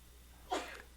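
A single short, sharp sneeze bursts out once over a quiet room background, close and brief.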